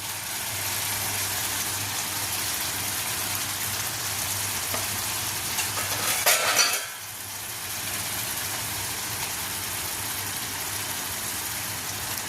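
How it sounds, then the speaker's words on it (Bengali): Paneer pieces drop into masala that is already frying in a pan. A steady low sizzle runs throughout, with a brief louder burst of crackling midway as the pieces go in, then the gentle frying continues. "এবার আমি পনিরের টুকরোগুলোকে এর মধ্যে দিয়ে দিচ্ছি।"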